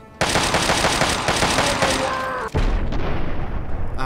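Two grenade explosions in the video game Fallout 3 land in quick succession, each a sudden loud burst that rumbles on, the second striking about two seconds after the first.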